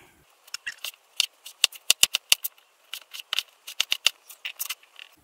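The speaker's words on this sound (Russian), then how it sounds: "Помидорки режем кубиками" A knife chops tomatoes into cubes on a cutting board for a salad, giving a quick, irregular series of sharp close taps and cuts in bursts, with no talking.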